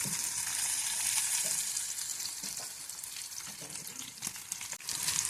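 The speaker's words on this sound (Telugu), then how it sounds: "ఇప్పుడు ఈ పచ్చిమిరపకాయలని లైట్గా ఫ్రై చేసుకుందాం." Green chillies, slit down the middle, fry in hot oil for a spicy cucumber chutney, giving a steady close sizzle and crackle with occasional stirring clinks, alone throughout.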